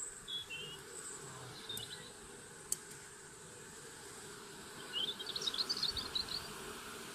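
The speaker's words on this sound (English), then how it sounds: "some of the worker bees are wafting their wings" Worker honeybees fan their wings at the hive entrance, making a soft, steady buzzing drone. Scattered faint chirps and a few sharp ticks come and go, and a brighter flutter of activity surfaces near the end.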